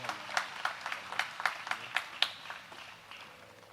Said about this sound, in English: Will you please now give our graduates a round of applause?